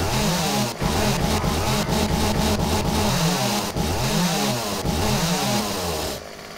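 A chainsaw runs loud and continuous in the video game 7 Days to Die, its engine buzzing and revving in steady surges for several seconds before cutting off abruptly near the end.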